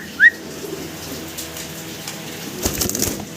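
Young fancy pigeons, a male and a female about eight feathers old, give a brief soft call near the start, then stay faint against steady background noise with a few scattered rustles.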